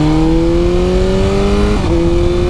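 A motorcycle engine holds a steady, fairly loud drone on a ride, with a brief dip and shift in pitch near the end as the rider changes gear before the tone settles again.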